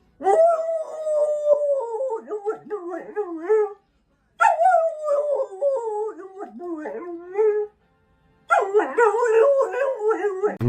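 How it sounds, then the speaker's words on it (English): Excited dog eager for its tennis ball, howling and yipping loudly in three long, wavering bouts with short pauses between, close to the microphone and with no talk over it. "I've never seen a dog this excited for his tennis ball."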